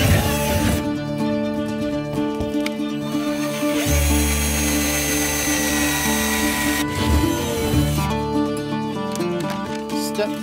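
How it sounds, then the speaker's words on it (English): A power drill whines loudly and steadily, its pitch shifting as it bites into aluminum on a chicken coop, with mechanical hum throughout and no talking. "We'll use this drill bit that comes with it. We're gonna drill through here."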